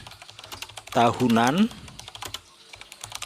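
Soft clicking of someone typing on a computer keyboard, quick light keystrokes scattered throughout, with a voice speaking briefly over them.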